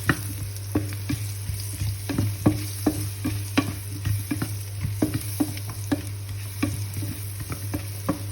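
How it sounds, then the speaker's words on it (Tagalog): Ginger fries in a pan with a steady sizzle while a utensil stirs and scrapes it in repeated, uneven strokes. A constant low hum runs underneath. "Halo-halo lang muna mga 5 minutes."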